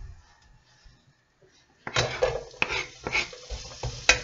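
Pan reheating with a little oil before onion goes in, heard as sudden clattering and scraping onset partway through, then repeated stirring knocks and light sizzle, close and fairly loud after near silence.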